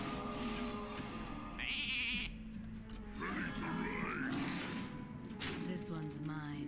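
Sheep bleat in the Hearthstone card game, a few short wavering bleats heard clearly over steady game music and effects while someone talks throughout.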